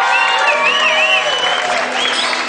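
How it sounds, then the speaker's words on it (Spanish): Applause for the bride's parents at a wedding reception in California, a steady wash of clapping from the guests with music playing over it, loud and continuous throughout. "¡Fuerte el aplauso para ellos,"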